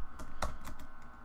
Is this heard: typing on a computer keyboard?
yes